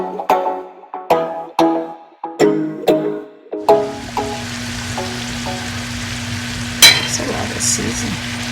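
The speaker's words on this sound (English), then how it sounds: "And this is onions, green pepper, red pepper, tomato, and she put some curry in there. You saute that with oil." Onions, green and red peppers, tomato and curry are sautéed in oil, starting with a series of sharp rhythmic knocks from a utensil, then a steady loud sizzle with occasional stirring clinks.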